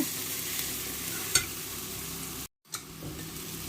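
Onions being sautéed in a pan until brown for Ambur-style mutton biryani give off a steady, even sizzle and fry hiss, with a light scrape of stirring and a brief cut in the sound partway through, no talking.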